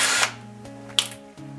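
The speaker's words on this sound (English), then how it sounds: "It's a hinge centering drill." A short whirring burst from a hinge centering drill bit in a jig that shifts pitch as the bit bites, with a brief high squeak partway through.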